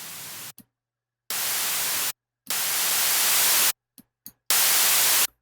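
Bright white noise from a synth, high-pass filtered and compressed for a dubstep mix, plays as loud, dense hiss bursts that cut on and off abruptly, with a couple of very short blips between the longer blocks.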